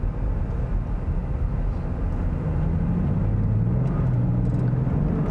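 A 2021 Land Rover Defender X 110 engine rumbles steadily under light throttle while driving on snow, a continuous low drone with a slight rise in pitch partway through, close and loud without any talk.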